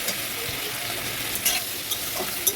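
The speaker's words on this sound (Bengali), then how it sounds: "মাছটা আমার ভালোভাবে ভেজে নিতে হবে, এপিট ওপিট ভালোভাবে" Fish frying in hot oil in a kadai (wok), giving a steady close crackling sizzle throughout with a few sharper pops and spatters.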